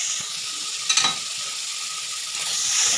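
A spiced katla posto mixture of fish and poppy seed paste with chilli powder is stirred in a pan, giving a soft steady sizzle with a couple of brief scraping clinks of the spoon.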